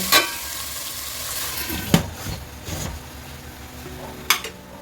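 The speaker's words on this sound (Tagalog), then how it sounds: "ilalagay ko na yung ating pinakuluan na pork belly" Boiled pork belly is fried in a pan, giving a steady close sizzle broken by a few sharp clinks and scrapes of a utensil against cookware.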